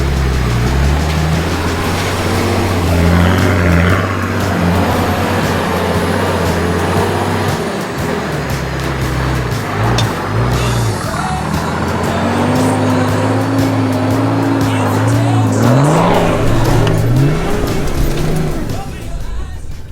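Off-road 4WD with front and rear lockers engaged, engine revving and labouring as it pushes through a soft, muddy bog on a rough Australian track, loud throughout with shifting pitch.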